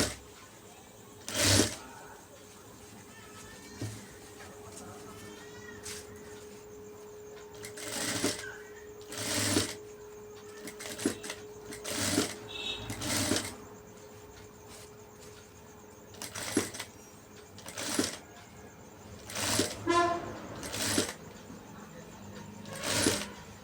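A sewing machine runs a kinnari stitch along an embroidered blouse, its motor whirring in repeated short bursts of stitching with pauses between, fairly close and alone.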